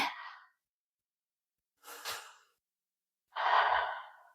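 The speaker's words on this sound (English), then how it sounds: "Breathing." Three separate deep breaths during a stretching exercise on a mat, each a soft, airy rush with a sigh-like exhale, spaced by short silences. The last breath is the fullest and longest.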